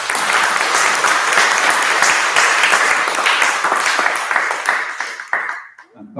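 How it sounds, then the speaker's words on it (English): Audience applause at a spiritual talk in Nashville, a dense, loud burst of many hands clapping that holds steady, then thins and fades out near the end. "Let's give them a round of applause."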